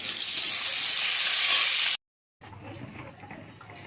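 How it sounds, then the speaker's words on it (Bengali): Potatoes frying in oil in a wok with a little salt give a loud, dense sizzle that cuts off abruptly, then returns quieter with softer crackling. "আলুগুলো আগে তেলেতে ভালো করে ভেজে নেবো আলুটা একটু নুন দিয়ে ভেজে নেবো"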